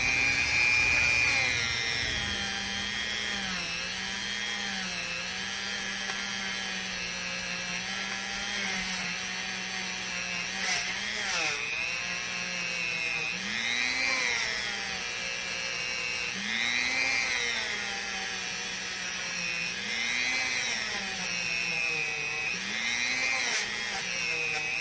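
A rotary tool whines steadily while polishing the inside of a brazed header pipe tube braced in a vise, its pitch wavering up and down as pressure changes, with scraping grind underneath.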